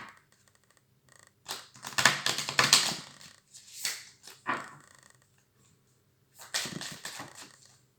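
Tarot cards being shuffled by hand in several short riffling bursts separated by quiet pauses, close and fairly soft.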